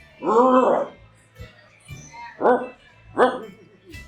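A human voice imitates a big, scrawny street dog growling and barking in a few short, throaty bursts separated by quiet gaps, close and fairly loud.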